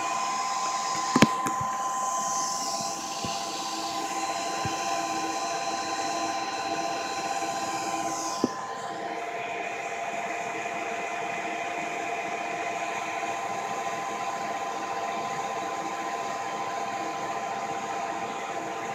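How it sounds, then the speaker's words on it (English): A top-of-the-line network router powering up whirs with a loud, steady fan roar like a server, with a couple of sharp clicks near the start and a shift in pitch partway through. "This router, it starts up like a server."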